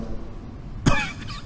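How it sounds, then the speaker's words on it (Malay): A single sharp cough rings out once inside a mosque over a low, steady background hum. "ada orang batuk."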